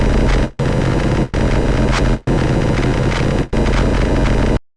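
Phase modulation synth oscillator with inverted polarity, a loud dense buzzing harsh tone played in four sustained bursts separated by brief silences, cutting off near the end.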